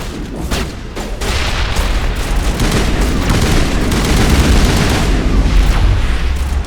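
Grenade explosions and gunfire in the Mass Effect video game, a dense continuous roar of blasts and shots that stays loud and steady throughout.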